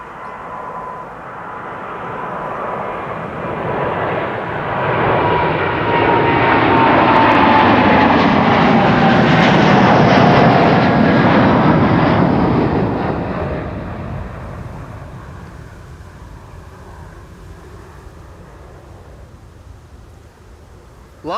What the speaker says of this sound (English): This is a 787-10 Dreamliner.